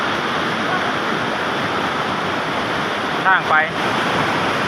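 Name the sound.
waterfall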